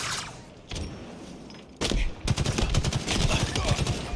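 Rapid automatic gunfire rattles in a Halo Infinite multiplayer match, with a few scattered shots and thumps early on, then a dense, loud burst of sustained firing over the second half.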